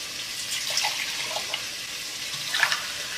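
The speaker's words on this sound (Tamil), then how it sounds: "இதுலேயும் தண்ணி விடுங்க, ஒரு 1/2 டம்ளர் மாதிரி" Water pours into a pot of seeraga samba rice biryani as a soft, steady splashing hiss with a few faint clinks and drips, fairly quiet throughout and without talk.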